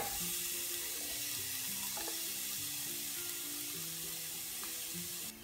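Half an onion fries in a splash of oil in a frying pan, giving a quiet, even sizzle like running water, with small clicks and a faint tonal hum in the background, no speech.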